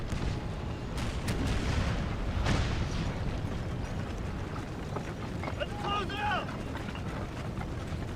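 Artillery fires during a battle in the Civil War strategy game Total War: American Civil War, dull booms and crackling gunfire rolling over a dense roar of combat, with a bugle-like tone and a voice talking underneath.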